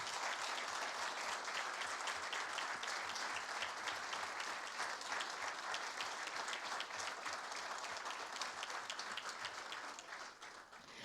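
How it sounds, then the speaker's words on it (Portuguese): Sustained applause from an audience at a formal induction ceremony, dense steady clapping filling the room for about eleven seconds before thinning slightly at the end. "peço uma salva de palmas para eles"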